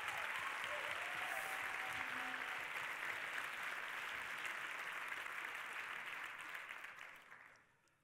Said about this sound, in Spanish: un fuerte aplauso para el nada friki Álvaro Sahún